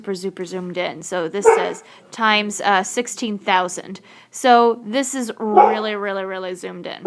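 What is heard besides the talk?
dog barking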